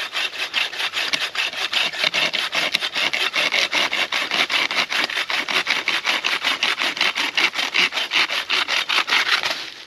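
A hand saw, a bow saw, rasps steadily back and forth through rotten wood, dozens of even strokes in a brisk, regular rhythm, loud and close with no talking.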